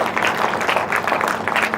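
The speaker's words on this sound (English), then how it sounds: "I started with a round of applause for you. Do that once more" Auditorium crowd applauding at a leadership talk, a dense continuous patter of many hands clapping at moderate volume, with no distinct voices over it.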